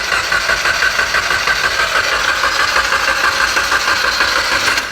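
A Mitsubishi Evo engine with a knocking problem is cranked over by the starter with its ignition coils removed, so it does not fire. It gives a steady, loud mechanical churn with a faint rhythmic pulse throughout.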